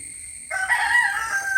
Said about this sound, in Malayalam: കോഴി സമ്മതിക്കത്തില്ല വീഡിയോ എടുക്കാൻ.